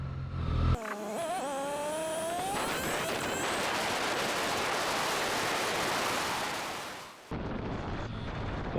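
A Triumph Street Triple 660 S motorcycle joins an expressway, its engine rising in pitch through the gears before a loud, steady roar of engine and wind noise that drops away sharply near the end.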